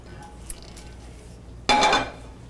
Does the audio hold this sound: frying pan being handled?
yes